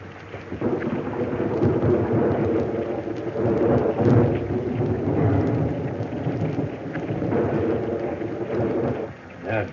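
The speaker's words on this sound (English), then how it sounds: "Okay, what a storm." A heavy thunderstorm with rain in a 1935 western film: dense, loud rain and rumbling thunder roll on continuously, with a muffled, old-recording quality.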